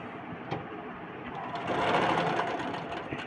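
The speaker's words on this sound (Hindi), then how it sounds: "यहाँ से कपड़े को आपको इस तरफ सिलाई करना है, ठीक।" Sewing machine stitching blouse fabric, a steady close mechanical whir that grows louder and faster midway through, running alone without talk.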